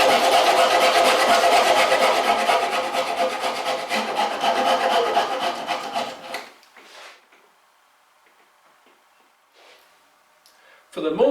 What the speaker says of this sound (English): So we need to cut a slot in this direction.